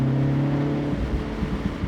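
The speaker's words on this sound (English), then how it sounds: "Plus the pops and burbles of the John Cooper Works 2-liter turbo." A MINI John Cooper Works convertible's 2-liter turbo engine drones steadily, then breaks into a scatter of close pops and burbles on the overrun, loud with no talking.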